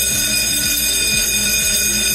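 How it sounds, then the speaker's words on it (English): A fire alarm bell rings continuously and loudly, a harsh steady metallic clanging that fills the space without pause. "the fire alarm bell will be ringing"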